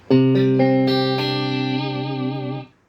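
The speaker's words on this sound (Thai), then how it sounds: "ปิดพวกดีเลย์แล้วก็รีเวิร์บให้ ดูนะครับมันจะแห้งๆเลยนะครับ" An electric guitar plays dry through an amp cabinet with delay and reverb turned off: several picked notes build into a sustained chord that rings steadily, then is cut off cleanly with no echo tail.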